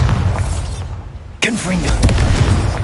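A Bombarda spell explodes in the Hogwarts Legacy video game. One sudden, loud blast lands midway through a busy, rumbling combat background, and voices are heard around it.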